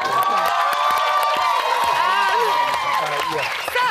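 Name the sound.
studio audience applause and cheering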